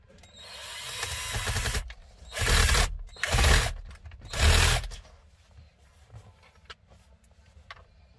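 A power driver spins screws back into the courtesy light assembly of a Citroën C4 Pallas, three close whirring bursts of a few seconds each, followed by faint handling clicks.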